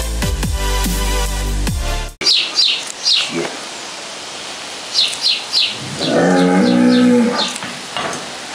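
Cattle mooing on a rural outing, several drawn-out low calls toward the end, with birds chirping and scattered noises earlier.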